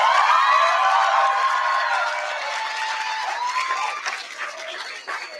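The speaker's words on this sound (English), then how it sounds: "Let's give them another big round of applause" An awards-ceremony audience applauds in a dense patter of clapping with some cheering, loud at first and gradually thinning and fading toward the end.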